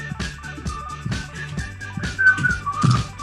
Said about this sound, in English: Hey, I whistled a little bit.